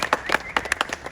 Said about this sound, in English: And round of applause for Lady Paula, everybody.